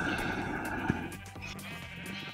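A Minecraft sheep gives a short bleat near the first second, over a steady game background hum and faint high tones. A few fainter sounds follow.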